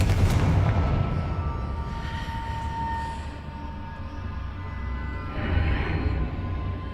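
A Confringo blasting curse goes off in the Hogwarts Legacy video game, a loud booming explosion at the start that rumbles and decays over several seconds, with a second swell of blast noise near the end.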